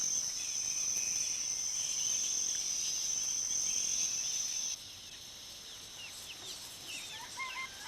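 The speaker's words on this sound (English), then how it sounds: "The red jungle fowl of Southeast Asia is the most widely domesticated bird on Earth." Red jungle fowl call amid a dense chorus of crickets and insects in a Fijian forest, with scattered clucks and bird chirps fading in and out.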